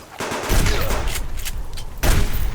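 Shotgun blasts ring out in the survival video game Subsistence: two loud, close booms, the second following about one and a half seconds after the first, each with a dense, sustained roar trailing it.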